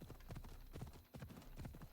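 Galloping hooves of a horse in the video game Assassin's Creed Odyssey pound in a quick, even rhythm, close and prominent, with a short dip near the middle before the run continues.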